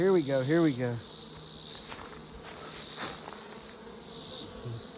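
Bees buzzing at a beehive in a continuous, fairly quiet drone; a voice speaks briefly at the start over the hum.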